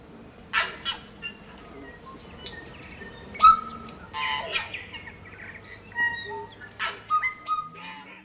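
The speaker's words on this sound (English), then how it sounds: "One of my favourites is the Aotearoa bird song." A New Zealand (Aotearoa) bird song recording, with scattered bright calls, chirps and warbling phrases from several birds rising and falling over quiet background ambience.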